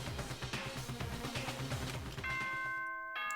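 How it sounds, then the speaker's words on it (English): The Danganronpa: Trigger Happy Havoc school announcement chime, a ding-dong bell jingle ringing out in steady sustained tones after busy game music, ending with a clean held chord. "Ding dong, bing bong. Hadn't heard this song in a while. This is the school announcement."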